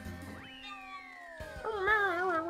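A voice imitates a cat's meow with a drawn-out, wavering, falling whine, followed by a louder warbling second cry, close and clear during a Mario Kart 8 session.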